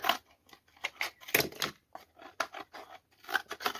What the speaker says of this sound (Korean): 가위를 좀 이용하셔야 돼요.